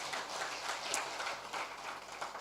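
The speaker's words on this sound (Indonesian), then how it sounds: "Tepuk tangan untuk Tuhan Yesus." Congregation applauding during a Sunday church worship service, a steady wash of many hands clapping at moderate distance, continuous for a couple of seconds with no speech over it.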